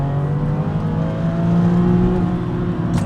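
A Porsche 996 Carrera 2 with a manual gearbox revs hard toward 7,200 rpm, its engine note loud, close and continuous, with a steady rising roar and no talking over it.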